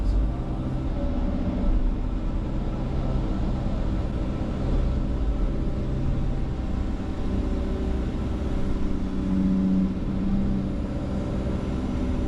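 A small, smooth-running excavator cutting into a dirt bank and piling soil, a steady low engine rumble and drone that holds throughout, close and constant with no talk.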